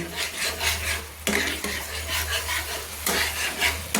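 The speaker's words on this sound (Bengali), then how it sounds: "এইভাবে বন্ধুরা আমি প্রায় তিন মিনিট মতো মশলা জলটা দিয়ে কষিয়ে নিচ্ছি" Spice paste with water being stirred in a pan for a mustard tilapia curry, rhythmic scraping strokes of a spoon against the pan over a soft sizzle and steady low hum, with two sharper louder knocks.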